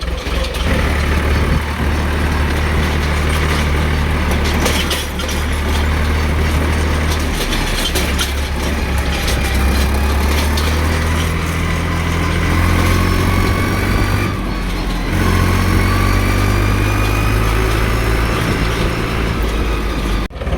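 A tractor towing an empty trolley drives along, its engine producing a loud, continuous drone that stays close and steady, with gear and speed shifts heard as changes in pitch.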